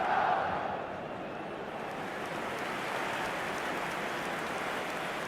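Capacity stadium crowd in the eFootball 2027 video game, a dense continuous roar of cheering and noise filling the stands, steady and loud throughout with no distinct voices standing out.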